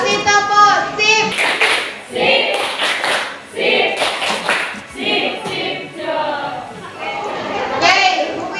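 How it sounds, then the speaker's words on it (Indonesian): A classroom of children claps along at the end of a science lesson on food digestion, with bursts of applause among lively children's chatter and voices. "Kasih tepuk, sip."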